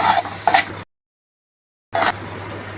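Onion poha being stirred and sautéed in a pan, with a few short, close scraping strokes of a spatula and a light sizzle, split by a full second of silence.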